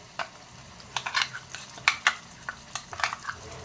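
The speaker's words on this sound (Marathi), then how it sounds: "तेल घातलेलं आहे गरम करत ते तापलेलं आहे त्याच्यात मी लाल कांदा लसूण मसाला चार चमचे घालते" A spoon repeatedly clinks and scrapes against a pan as red onion garlic masala fries in hot oil for katla fish curry, with irregular metallic taps over a faint sizzle and no voices.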